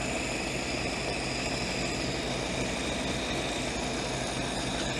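A World War II Jeep engine idles steadily after its carburettor idle jet was cleaned, a continuous even rumble with a faint mechanical buzz running unbroken throughout, with no talking.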